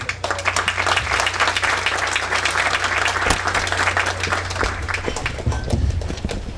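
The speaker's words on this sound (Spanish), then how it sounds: "lo recibimos con un aplauso" Dense, sustained audience applause at an evening engineers' chapter gathering, welcoming a speaker to the podium; a thick wash of many hands clapping steadily for several seconds over a low electrical hum, easing off at the end.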